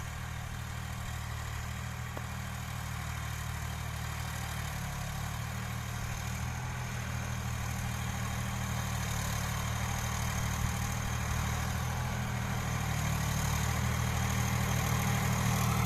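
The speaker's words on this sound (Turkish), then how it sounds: "Motorun sesi niye çok geliyor diye merak edenler olursa motorun egzozu patladı o yüzden." A loud, steady engine drone with a rough, blaring exhaust roar from a burst exhaust runs throughout, continuous and close, no talking.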